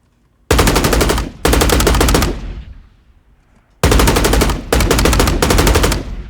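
Layered machine gun fire built as a game audio effect, loud sustained automatic bursts in two groups separated by a decaying tail and brief quiet, each group made of several long rapid-fire runs.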